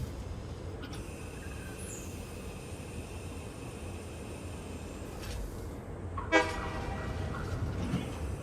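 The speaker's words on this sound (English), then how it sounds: "I want to see this self-driving train." A self-driving train in the factory-building video game Satisfactory rumbles steadily along its track, with a sustained horn-like tone and a sharp mechanical clank partway through, fairly close and with no talking.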